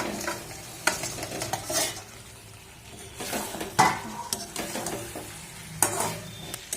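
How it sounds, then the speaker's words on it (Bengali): A spoon scrapes and clatters as fried gram-flour and spinach dhoka pieces are stirred through an oily spiced masala in a pan, with soft sizzling beneath irregular stirring strokes, close and moderately loud. "এগুলো দিয়ে ভালোভাবে নাড়াচাড়া করে নেবো"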